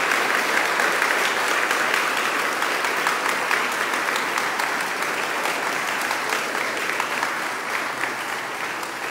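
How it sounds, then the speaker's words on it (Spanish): Sustained applause from a church congregation, a steady dense clatter of many hands filling the space, even in level and fading slightly toward the end. "un aplauso para ustedes que durante este año han trabajado"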